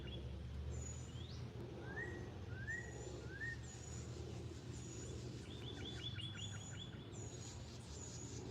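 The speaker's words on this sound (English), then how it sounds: "Well, I got two birds talking to each other up here too." Two birds exchange calls near a backyard chicken coop: a few rising chirps, high thin whistles and a fast rattling trill, faint against a constant low hum.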